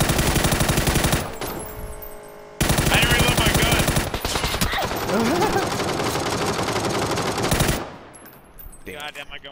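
Loud automatic gunfire in PUBG, with long rapid bursts broken by short pauses, while a player's voice shouts over the shooting.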